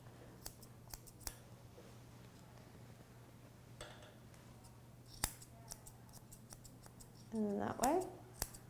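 Scissors trim a Doodle dog's ear hair in a series of quiet snips during a grooming session, with brief speech and a short squeak near the end.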